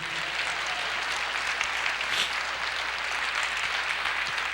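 A church congregation claps steadily and densely for several seconds, a sustained wash of applause filling the room with no speech over it.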